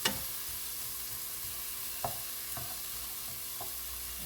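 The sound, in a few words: vegetable omelette frying in a pan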